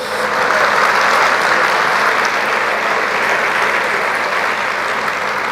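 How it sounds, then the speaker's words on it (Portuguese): A church congregation claps loudly and continuously, a dense, even wash of applause with no speech over it. "Você pode aplaudir o Senhor, dizer graças a Deus."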